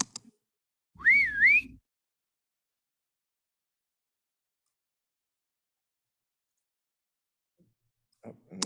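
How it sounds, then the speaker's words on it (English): A single short rising-and-falling slide whistle sound effect plays near and clear, followed by long silence before a faint trailing blip at the end. "let's do a whistle sound for here"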